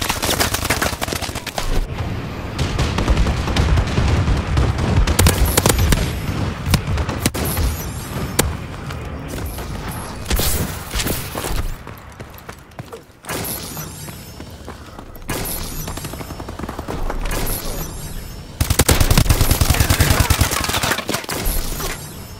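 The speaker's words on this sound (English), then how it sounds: "Friendly bombing run incoming." A friendly bombing run in the video game Call of Duty: Advanced Warfare brings dense, loud, continuous explosions and rapid gunfire with crashing debris, sustained and intense throughout, with occasional voices under the din.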